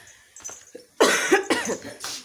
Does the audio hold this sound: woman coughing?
yes